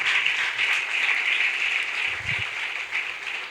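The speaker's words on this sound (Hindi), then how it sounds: "तो जोरदार तालियां बजाइएगा" A congregation at a church healing service in Karachi applauds, a steady, fairly loud patter of many hands with a faint low voice briefly underneath.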